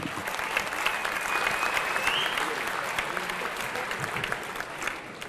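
Audience applause at a mushaira, a steady, fairly loud crowd clapping that runs through the whole stretch, with faint voices mixed in beneath it.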